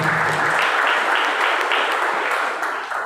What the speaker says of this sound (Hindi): क्यों ना उनके लिए जोरदार ताली बजा करें